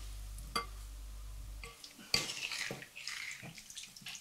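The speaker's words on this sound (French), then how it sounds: "On va mettre tous les ingrédients et on va mélanger d'un seul coup." Salmon tartare with orange, avocado and coriander being mixed with dressing in a bowl, soft wet stirring and a few sharp utensil clinks against the dish, quiet and close with no voices.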